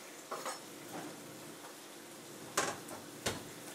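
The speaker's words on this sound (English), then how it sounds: "So I'm going to go ahead and add that to our meat" Onion and bell pepper added to browning meat in a pan give a soft, steady sizzle, with a few louder splashes and clatters as the vegetables land, close and alone.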